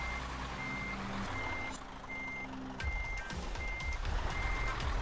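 A truck in Euro Truck Simulator 2 sounds a series of evenly spaced reversing beeps over a steady low engine rumble, with a brief air-brake hiss midway.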